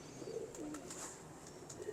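Small pigeons softly cooing in a loft, a couple of low, rolling coos, faint and close, with no voices.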